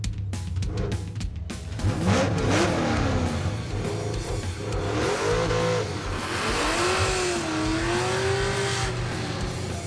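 A muscle truck launches down a drag strip, its engine roaring loud and close as it climbs through rising revs with a clear gear change midway, then pulls steadily on, with no talking.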